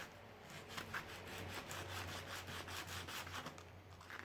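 Sandpaper rubs steadily back and forth on the lower nut of a viola, a close, continuous rasping scrape with a regular stroke rhythm and no talking.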